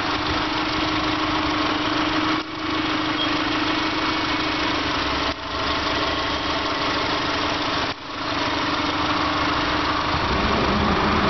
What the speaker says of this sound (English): It's a 16-valve four-cylinder engine, otherwise known as a flat four in Subarus.